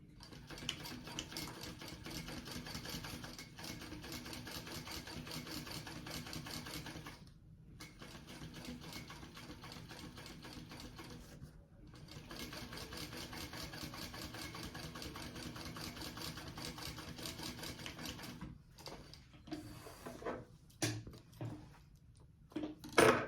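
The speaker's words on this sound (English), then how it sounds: "now I'm going to top stitch on this contrast band piece through that seam allowance" A sewing machine running in long continuous bursts while top stitching a contrast band along a bag seam, a steady mechanical whir that pauses briefly twice and breaks into short stops and starts at the end.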